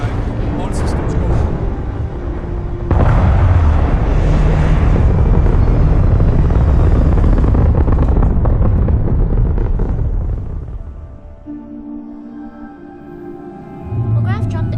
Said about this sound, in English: All crew prepare for takeoff